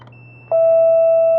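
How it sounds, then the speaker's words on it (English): Gate door station sounding one long steady beep as a vehicular gate opens, loud and close over a faint low hum, after a short click, with no talk. "it beeps, so the vehicular gate is open"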